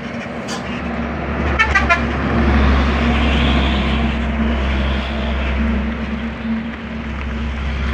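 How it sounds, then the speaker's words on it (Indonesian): A Fuso truck passes on a road in Muratara on a busy morning, a loud steady engine rumble with a horn toot early on, continuous traffic noise throughout. "Itu sebuah mobil Fuso dari arah Singkut ini bosku."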